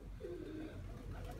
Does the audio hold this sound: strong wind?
no